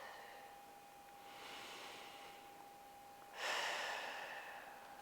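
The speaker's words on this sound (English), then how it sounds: "we're going to take 3 nice deep breaths here" Slow, deep breaths during a Pilates stretch, close and soft: a long drawn inhale followed by a stronger, breathy exhale that fades away, over a faint steady hum.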